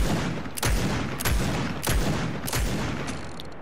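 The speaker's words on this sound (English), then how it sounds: "So I'm gonna shoot this as fast as I can, just so you can see, you know, the speed of it and how fast it can actually fire" Rapid bursts of gunfire from a heavy-kicking weapon in Fortnite, about five loud, evenly spaced booming shots fired as fast as possible over a steady rumble, with no talking.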